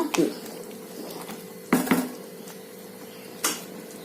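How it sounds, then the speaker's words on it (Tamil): Metal utensil clinks against a boiling pot of coconut milk biryani, with a louder clatter midway as the lid is set down, then another knock near the end; quiet kitchen background throughout. "இப்போ இது கொதிக்குதுங்க கலக்கிட்டு மூடி போட்டு வச்சிடலாங்க"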